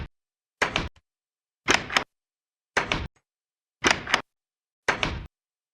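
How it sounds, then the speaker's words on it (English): The old Minecraft door sound repeats five times at a steady pace, each a short, loud, hollow wooden clack standing alone against silence. "If you remember this sound of the door"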